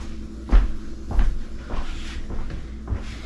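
A door to a utility room is opened indoors, giving a few soft thumps and knocks spread over a few seconds, the loudest near the start, like a latch releasing and the door swinging.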